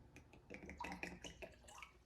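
Water from a pouch splashes and drips into an MRE flameless heater bag, a short run of close, wet trickles and small splashes with no talking.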